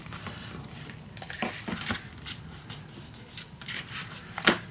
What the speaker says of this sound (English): To burnish it down.